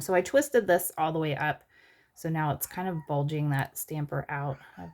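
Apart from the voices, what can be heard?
No everyday noises stand out.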